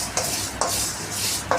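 Curry leaves and whole red chillies go into a hot pan for a sambhar tempering, making a broad, steady crackling sizzle up close, cut by three sharp scrapes or clinks of a spoon on metal, with no voices.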